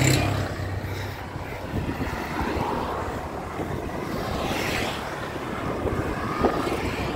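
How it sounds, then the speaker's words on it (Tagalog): Strong wind roars and buffets a microphone on an uphill bicycle ride near Tagaytay and Batangas, a loud, continuous rushing with gusting swells and no clear talk. "Lakas ng hangin."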